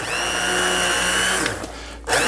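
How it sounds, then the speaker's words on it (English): An immersion blender whirs steadily through potato, leek and lentil soup, loud and close with a constant motor drone, then briefly sputters and drops off near the end. "We want to now blend everything together. So with an immersion blender."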